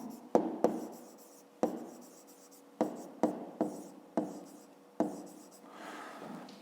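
Pen strokes on paper as a maths answer is written out by hand in a fifth-grade exercise: a run of short, sharp scratchy taps and lifts, close and fairly quiet, with no talk.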